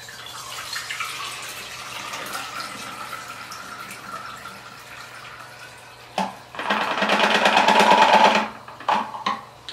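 Liquid is poured out of a film developing tank for C-41 film, heard as a short burst of splashing and gurgling after quieter handling noises, over a faint steady hum.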